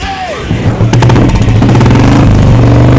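Royal Enfield Classic 350 BS4 motorcycle: a faint tone gives way to the single-cylinder engine firing up and revving loud and close, a throbbing thump with blips of throttle throughout.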